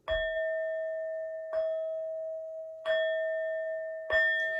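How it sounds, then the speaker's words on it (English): Four clear bell strikes, evenly spaced, each ringing out with a long sustained tone that fades slowly before the next. "These next 4 bell sounds are to align us and to bless this reading."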